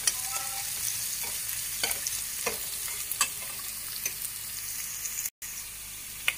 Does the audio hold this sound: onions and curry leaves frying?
yes